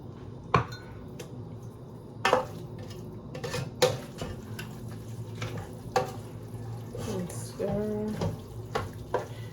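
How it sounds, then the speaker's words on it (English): Water splashes and trickles into a metal pot of brown rice for mushroom risotto amid clanks of cookware and utensils, steady kitchen clatter with sharp knocks throughout. "I'm gonna add some more water."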